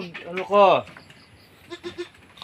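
A two-day-old buck goat kid lets out a loud, wavering bleat, followed by a few softer, shorter bleats nearby.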